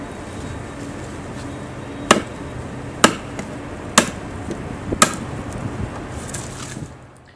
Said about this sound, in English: Now we'll begin hollowing with the bowl adze.